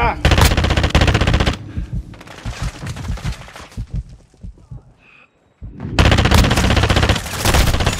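Loud bursts of machine gun fire in a Call of Duty match, rapid rattling volleys at the start and again near the end, with a brief quieter lull between them.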